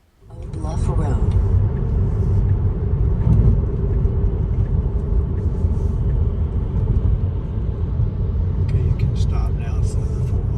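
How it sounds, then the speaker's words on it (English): A car rolls along a rural road in South Carolina, Old Bluff Road toward the Congaree National Park entrance, with a steady, loud engine and tyre rumble heard from inside the vehicle throughout. "Here we're driving towards the entrance to Congaree National Park"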